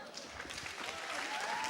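A crowd at a National Science Challenge semi-final quiz claps for a competing team, a brief burst of steady applause that swells slightly toward the end, with a voice speaking over it.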